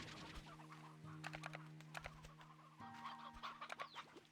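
Roostros and hens cluck in the video game Slime Rancher 2, faint short clucks and fowl calls over a steady low game music hum, with no talking.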